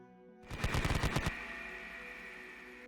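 A short burst of heavy machine gun fire in a Konflikt '47 tabletop battle between Japanese and British Commonwealth forces, about ten rapid loud shots followed by a lingering ringing tail.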